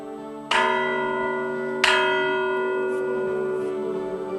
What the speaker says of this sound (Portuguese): Hoje, como veem, tem aqui uns excelentes sinos.